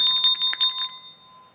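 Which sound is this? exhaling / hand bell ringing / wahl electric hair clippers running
hand bell ringing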